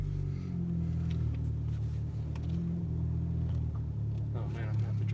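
A Honda Civic Type R driving off: a steady, close low engine rumble from inside the cabin, with people talking over it throughout.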